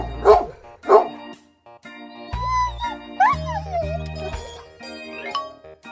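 A cartoon dog barks in two quick close yips near the start, followed by bright, playful music with melodic tones and sustained notes for the rest.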